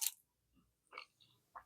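Crunchy homemade almond cookie bitten into with a sharp crisp snap, then a few quieter crunching chews close up in a quiet kitchen.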